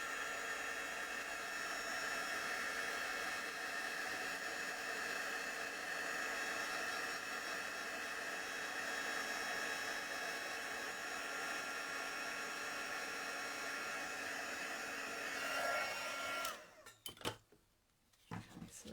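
A heat tool blows hot air over embossing powder on a stamped card, a steady whooshing fan roar held for about fifteen seconds before it shuts off, followed by a few handling clicks and rustles.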